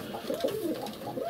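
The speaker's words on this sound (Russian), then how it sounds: "Вот 9 голубят у меня здесь." Young pigeons coo softly in winter, a low burbling murmur of several birds close by, continuous and faint with no talking.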